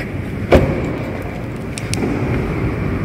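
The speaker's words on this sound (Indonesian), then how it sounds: "Jadi kalau misalnya kita kunci pintunya," A Honda City sedan's door locks with one sharp, fairly loud thunk near the start, then a couple of faint short chirps over steady outdoor background noise.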